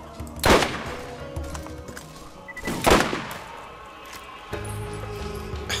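Enemy gunfire in the shooter game Borderlands: two loud sharp shot bursts a couple of seconds apart over a low steady game background with faint mechanical tones, no talk.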